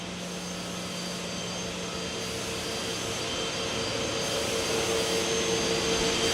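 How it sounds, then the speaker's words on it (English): A CNC router fitted with a 3/8 compression bit cuts through plywood, producing a loud, continuous whining roar that builds slightly over the stretch, with no voices. "you will have a 3/8 compression bit cutting for flawless up and down shift-free cuts"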